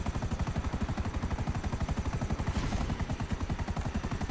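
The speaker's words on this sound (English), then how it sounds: "With a wounded helicopter, because I thought I could land it." A damaged helicopter in GTA 5 Online thuds along with steady, rapid rotor chopping and a dense engine roar, loud and continuous throughout with no talking.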